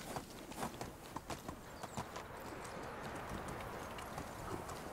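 Donkey hooves clip-clop at a steady walking pace in Medieval Dynasty, a run of light hoof taps that settles into a continuous shuffling patter.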